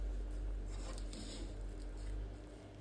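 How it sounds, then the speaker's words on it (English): Soft sandwich bread dough is squished and kneaded by hand in a bowl, giving steady wet squelching and patting close up, moderately quiet, with no talking. "I start off with a spoon and then I go in and mix with my hands, as you can see here"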